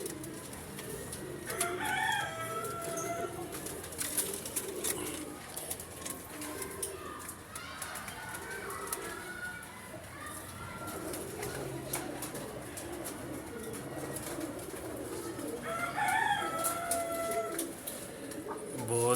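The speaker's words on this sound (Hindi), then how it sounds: "बहुत ही नायाब रामपुरी कबूतर हैं ये।" Rampuri breed pigeons coo softly in a loft, repeated low murmuring calls under a hissy background, with a few clearer coos near the start and end.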